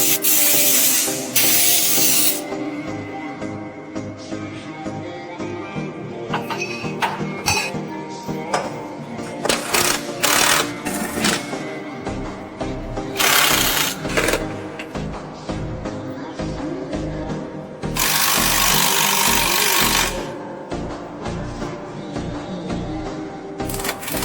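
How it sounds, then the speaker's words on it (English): A spray gun applies protective coating to a car chassis during a full restoration, with several loud hissing bursts between stretches of metallic clinks and workshop clatter. "Then we spray the chassis protective coating to prevent further rust and oxidation."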